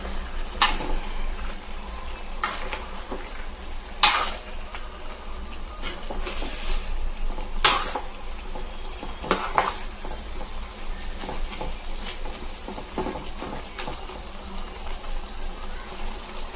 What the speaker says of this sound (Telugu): సో ఇట్లా మొత్తం గ్రేవ్ అనేది పైకి వచ్చింది కొంచెం కలుపుతున్నాను లైట్గా